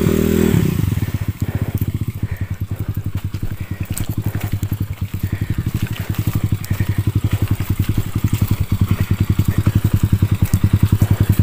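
A Rusi KR Mini motorcycle rides off-road with a loud, close, pulsing engine drone and rapid rhythmic firing, steady throughout after a brief rough start.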